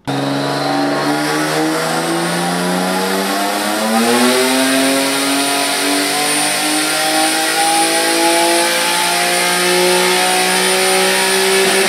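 Turbocharged rear-mount Nissan 350Z engine pulls hard on a dyno, a loud sustained rev that climbs steadily in pitch over twelve seconds with no talking.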